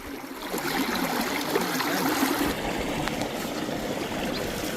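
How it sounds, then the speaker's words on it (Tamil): Mountain stream water rushing steadily past, fed by a dam on a trek to Mukurthi Peak through Parsons Valley; a continuous close, broadband wash and trickle with no voices. "காலடி நல்லா தண்ணி ஓடிக்கிட்டு இருக்கு பாருங்கள்."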